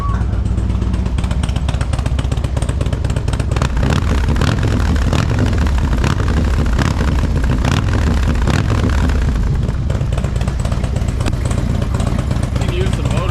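Harley-Davidson Street Glide motorcycle that has trouble starting, its engine running loud and close with a dense, rumbling roar and surges of revving, while people talk over it.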